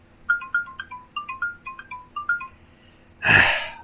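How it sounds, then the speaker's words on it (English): A phone's melodic ringtone plays a quick repeating pattern of bright electronic notes for an incoming call, then stops, followed by a brief loud noise burst. "get a phone call at the exact moment I'm trying to pull up lyrics"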